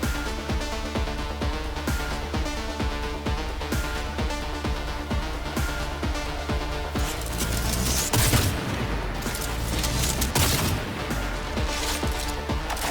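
Rapid gunfire from a sniper rifle in Cyberpunk 2077 cracks repeatedly over loud, driving combat music, the shots dense and forceful throughout the battle.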